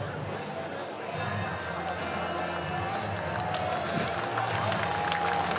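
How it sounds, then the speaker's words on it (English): Baseball crowd at a July 4 game reacts to a batter being hit by an 83 mph pitch up and in, a steady rumbling murmur of many voices lasting throughout, with a commentator talking over it. "The crowd's gonna make some noise with it"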